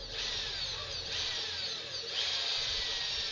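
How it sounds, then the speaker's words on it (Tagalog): A power drill with a 4mm bit bores into a broken bolt to prepare it for a bolt extractor, making a steady high-pitched whine that rises and dips in pitch, heard close and continuous. "sinimulan ko ng ibarina para gamitan natin ng bolt extractor"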